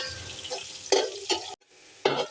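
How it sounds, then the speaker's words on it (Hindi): Onions frying in hot oil toward golden for a beef pulao, heard as short crackling, stirring bursts separated by quieter moments and one brief near-silent gap. "प्याज को अच्छा सा फ्राई कर लेना है, गोल्डन फ्राई करना है"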